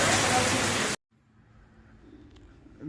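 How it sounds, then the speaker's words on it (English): Heavy rain pours down in Thailand, a loud, dense broadband hiss that stops abruptly after about a second, leaving only a faint, low background that slowly swells again. "When it rains in Thailand, it rains."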